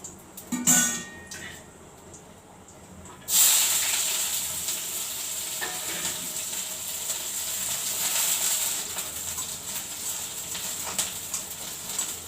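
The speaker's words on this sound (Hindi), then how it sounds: "उसमें जो है ये वाला तेल डालती हूँ, तो इसमें मैं जीरा डाल देती हूँ" Cumin seeds dropped into hot refined oil, a sudden burst of loud bubbling sizzle that settles into a steady hiss and crackle, following a few faint clinks and a brief quiet pause.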